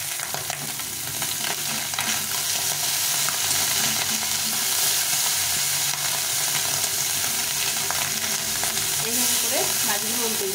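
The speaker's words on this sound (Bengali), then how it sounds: "মাছগুলো উল্টে দিতে হবে।" Small mola fish sizzle steadily in hot oil in a kadai as they are turned over, a dense, even frying hiss running throughout without speech.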